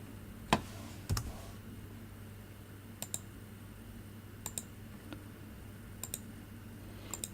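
Computer mouse clicks sound while working in accounting software: sparse, faint, sharp clicks, some in quick pairs, scattered over a quiet room background.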